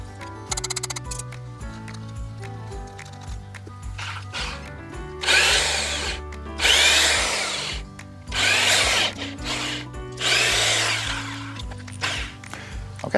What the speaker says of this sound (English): with our pilot holes drilled